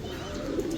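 Pigeon cooing from a pair of birds in a pigeon loft, a low soft murmuring coo that swells slightly partway through, fairly close and steady with no voices over it.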